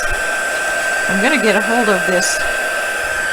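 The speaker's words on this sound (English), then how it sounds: "And we'll bring in our heat tool again." An embossing heat tool blows with a constant loud whooshing hum while a person talks briefly over it.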